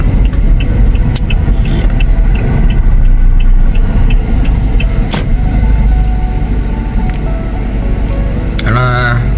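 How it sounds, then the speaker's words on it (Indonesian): Car engine running as the vehicle is driven and brought to a stop to park, a loud close engine rumble with brief clicks and a short voice near the end. "Oke, kita parkir di sini aja parkirnya."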